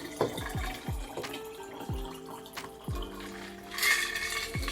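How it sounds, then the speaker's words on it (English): Icy water poured into a glass of absinthe that has already changed color, with faint trickling and a series of small drips and clinks recurring through the pour, ending in a brighter burst of liquid splashing near the close. "And then we're going to top it up with icy water."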